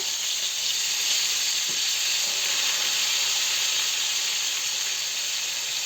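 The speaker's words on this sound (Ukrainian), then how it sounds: "Файно на другий бік обернемо, так посмажимо всю, всю рибку." Fish frying in a pan in a generous amount of oil, giving a steady, close, even sizzling hiss with no talking.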